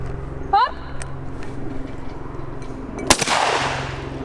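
A shotgun blast at a trap shooting range, fired at a clay target, goes off sharply near the end of the stretch and rings out with a decaying tail, after a short tonal call and steady low background rumble.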